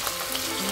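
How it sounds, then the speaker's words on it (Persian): Steady, loud hissing sizzle of lamb meat sautéing in a hot pan for a Persian plum and spinach stew, a continuous crackling texture with no voices. "خوب گوشت رو تفت میدیم."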